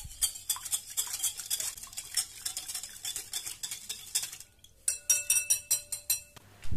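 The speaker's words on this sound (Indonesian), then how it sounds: "Telur 1 butir. Aduk rata kembali." An egg is beaten into donut batter in a bowl with rapid, rhythmic stirring, a close series of wet scraping strokes and light clinks of a utensil against the bowl, with no talking.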